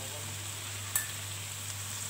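Sliced onions sautéing in a pan with a little salt to brown for chicken dum biriyani, a steady, fairly quiet sizzle with a single brief clink, no talking.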